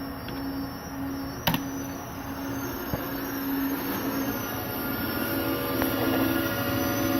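Matsuura Mach3 machining center with a retrofit spindle running at 2000 RPM, a steady even mechanical whir with a sustained low tone, one sharp click partway through, no talk.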